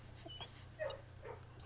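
A dog in the video game Blue Prince gives a few faint, soft whimpers and little yips over a low, steady hum of game ambience.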